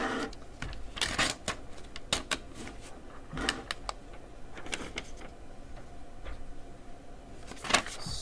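A lecturer writes on a classroom board, a series of sharp irregular taps and scratching strokes with short pauses between them, moderately quiet, no talk.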